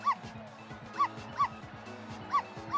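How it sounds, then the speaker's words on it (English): A dog in the video game Ghost Trick: Phantom Detective gives repeated short synthesized barks in a steady rhythm, about five in under three seconds, over quiet game background music. "so it wants me to make you bark"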